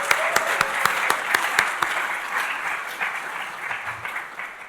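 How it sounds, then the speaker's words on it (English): Audience applause for the museum exhibition teams during a public conversation with artist Cara Romero; many hands clapping with distinct sharp claps early on, thinning slightly toward the end. "let's give a round of applause to all the teams at each institution"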